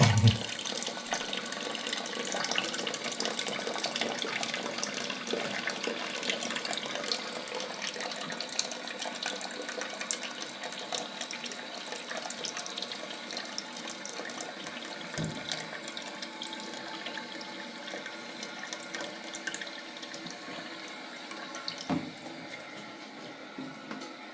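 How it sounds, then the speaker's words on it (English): Water runs steadily from a tap while testing a TOTO dual-valve toilet after flush gasket replacement, a continuous close hiss that gradually eases slightly over time. "Now I'm going to turn on the water."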